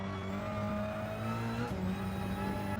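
Car engine in Gran Turismo 7 accelerating out of a corner, a continuous droning whir with steady harmonic tones that rise slightly in pitch, loud and even throughout.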